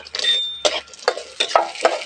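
Mung dal, chana dal and a few peanuts fry lightly in hot oil while being stirred, with close, short bursts of scraping and sizzling in an uneven rhythm.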